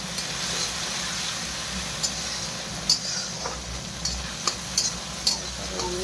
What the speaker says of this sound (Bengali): এখন আমি দিয়ে দেবো টমেটোর কুচি।